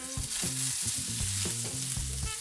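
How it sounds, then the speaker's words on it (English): Cumin seeds and finely chopped garlic frying in oil, a loud close sizzle with bright crackles and a series of scraping stir strokes, no voices. "The cumin is just starting to crackle a little bit, so I'm just going to add in our garlic."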